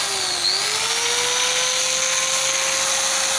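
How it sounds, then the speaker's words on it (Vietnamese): A 360W electric drill runs steadily on power from a 12V-to-220V pure sine inverter, giving a loud, continuous high whine that rises slightly in pitch at the start and then holds even throughout. "lúc đầu mới mua về thì cái khoan này là 360W. Em thử với cái khoan ạ."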